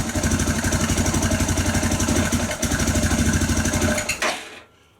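A Suzuki DR650 motorcycle engine runs steadily after cranking over, a loud rhythmic thumping idle close by that carries for several seconds and then cuts off, fading to quiet.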